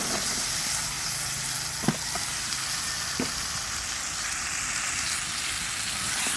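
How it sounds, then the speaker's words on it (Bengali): Malabar spinach fruit bhaji frying in a pan, a steady dense sizzle with a couple of brief stirring knocks, close and continuous, no talking. "সুন্দর করে ভাজি ভেজে নিচ্ছি"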